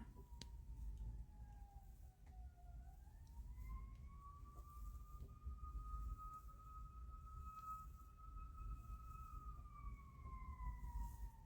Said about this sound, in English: Like emergency sirens.